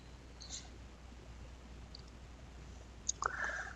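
A computer mouse clicks Install Ubuntu in a Linux installer, heard as a couple of quick, faint clicks near the end of a quiet stretch of low background hum.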